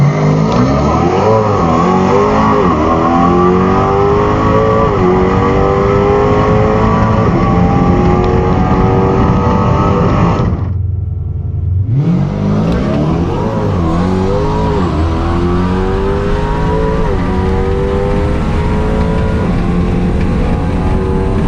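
A tuned, Whipple-blown Dodge Hellcat and a Tesla Plaid drag race at a dragstrip. Loud, rising engine revs climb through the gears, cut out briefly to near silence, then a second hard acceleration surges back up, with no talk.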